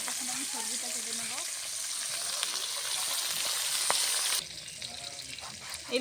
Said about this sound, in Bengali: এখানে মাছ ভাজা হোক